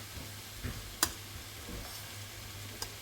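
Cooked rice frying in a pan sizzles softly and steadily while a utensil stirs it, producing a few sharp clicks and scrapes against the pan.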